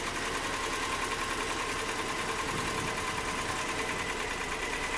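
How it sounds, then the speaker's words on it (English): A Nissan Maxima engine idles rough with several cylinders misfiring and nearly stalling, a steady faint noisy chatter recorded close with no pauses. "Oh, it's about to stall out here. Definitely seems like more than one cylinder is misfiring."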